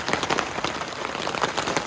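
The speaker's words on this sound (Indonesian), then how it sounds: "hujan datang sebentar, ntar hilang lagi, ntar hujan lagi" Rain patters steadily on a tent at a pine hill campsite, a dense close crackle of drops with no voices.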